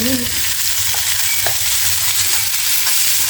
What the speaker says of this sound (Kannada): ಇದು ಉಳ್ಳಾಗಡ್ಡಿ ಸ್ವಲ್ಪ ಹಾಕೋದ್ರಿ, ಫ್ರೈ ಮಾಡ್ಕೋಬೇಕ್ರಿ ಚಂದ ಎಲ್ಲಾನು